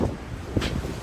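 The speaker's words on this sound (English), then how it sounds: "we can't get any further. It's too windy." Heavy wind buffeting the open deck of a cruise ship at sea, a rough, gusting rumble with a brief stronger gust, loud and close.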